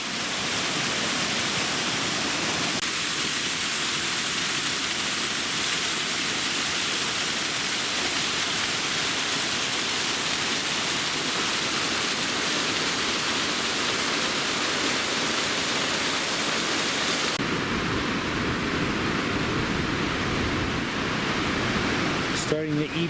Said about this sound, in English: Not exactly a cute little waterfall today.